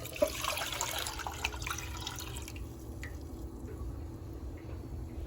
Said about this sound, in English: So the first thing you're going to do is pour your water.